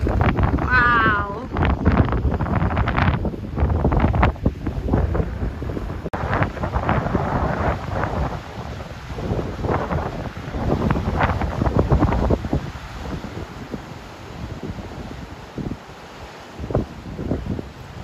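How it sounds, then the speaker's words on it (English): Strong gusts among rocks in central Portugal buffet the microphone with heavy low roaring and crackling bursts, rising and easing throughout, with a voice faintly heard beneath. "It's just so windy!"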